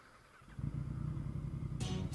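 Motorcycle on a wet Sentul race track accelerating hard, the engine kicking in and building to a loud steady rasp, close by, with a burst of spray-like hiss near the end.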